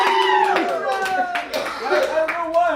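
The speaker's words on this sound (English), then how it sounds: "Give me applause, son." A few scattered hand claps break through lively talk and laughter between a man and a boy, brief and partly masked by the voices.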